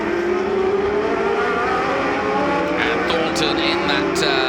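A historic 1966–1985 era Formula 1 car, the black and silver JPS Lotus 82, screams past at a road-course race event, a loud sustained high-pitched engine wail rising with a Doppler sweep, with a commentator talking over it.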